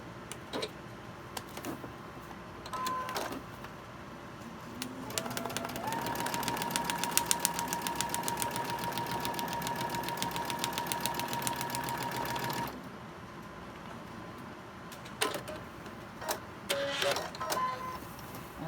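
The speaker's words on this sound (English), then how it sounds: "Take it over here to the sewing machine." A sewing machine stitching paper-pieced quilt blocks runs in a fast, steady mechanical whir for several seconds, bracketed by quieter handling clicks and fabric movement before and after.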